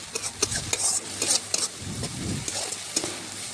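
A spice paste of ginger, cumin, garlic, green chili, black pepper and cinnamon, loosened with a little water, fries over low heat for a mutton curry. A continuous sizzle runs under repeated stirring scrapes and light metal clinks of a spoon against the pan.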